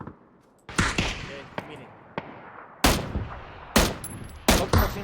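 Several sharp gunshots from a PUBG match on the Erangel map, fired in spaced single and paired bursts, loud and close, with a player's voice talking between the shots.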